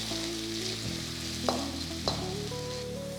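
Chopped ginger and onion sautéing in a pan for egg fried rice, a steady soft sizzle with two brief sharp knocks, under a continuous musical tone.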